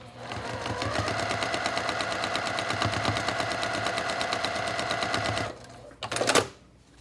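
A sewing machine stitches a quilt block seam in a fast, even run of needle beats up close, then halts, followed by a brief clatter and rustle of fabric handling.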